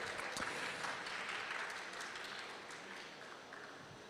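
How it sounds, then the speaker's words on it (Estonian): Warm applause from an audience at a morning skills-year inspiration talk at a trade fair in Tartu, steady dense clapping that fades slightly toward the end, with no speech over it. "teeme Hannole sooja aplausi"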